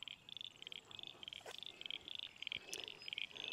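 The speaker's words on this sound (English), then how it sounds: "Well, you can hear the frogs." A chorus of frogs croaks in rapid, steady pulsing trills, with occasional chirps mixed in, moderately close and without voices, at a swale on a permaculture farm in spring.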